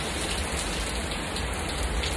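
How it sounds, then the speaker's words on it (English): Wind-driven cold rain falls in a steady, dense hiss of drops on surfaces, constant and fairly close for the whole stretch, with no voices. "the wind is blowing cold rain on me."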